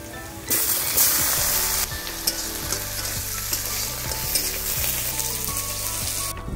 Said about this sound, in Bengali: আমার পেঁয়াজ টমেটো ভাজা হয়ে গেছে, মশলার তেল ছেড়ে দিয়েছে।